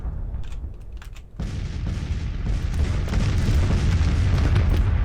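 Artillery batteries fire in the Civil War strategy game Grand Tactician, sparse booms at first giving way to a dense, continuous rumble of cannon fire and distant blasts that builds and stays loud with no speech.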